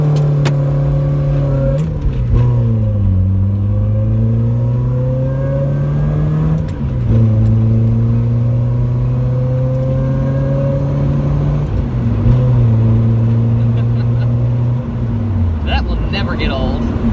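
Nissan 240sx engine revving in repeated rising and falling pulls as a tire spins, loud and close, with the pitch swelling and dropping several times and someone talking over it.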